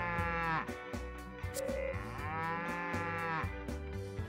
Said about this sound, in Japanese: あ、後ろに黒い牛もいるんだね。